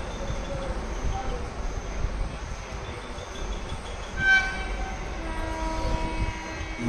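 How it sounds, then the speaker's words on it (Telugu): Secunderabad–Raxaul Express train pulling into a quiet, empty railway station: a steady low rumble of rolling wagons with a short horn-like tone midway, fairly close and with no talk. "మనం వెళ్ళే ట్రైన్ వచ్చేసి"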